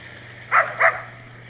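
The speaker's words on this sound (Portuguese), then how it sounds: "Olha os cachorros tudo esperando o filezinho do peixe." Dogs waiting for fish fillet at a fishing spot give two quick, sharp barks close by, in rapid succession, against an otherwise quiet background.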